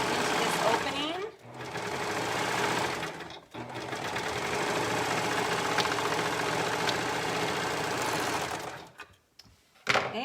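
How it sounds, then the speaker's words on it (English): A sewing machine stitching a cuff onto a shirt sleeve through three layers of fabric, running in loud, steady bursts with two brief pauses and a stop near the end, with faint talk in the background. "I'm stretching the cuff as I sew to fit into this opening."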